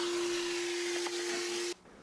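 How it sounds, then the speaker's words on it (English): A retractable vacuum cleaner runs steadily, sucking up sawdust with a loud whooshing hiss and a steady tonal whine, then cuts off abruptly near the end. "Here's some more sawdust. Let's vacuum it up."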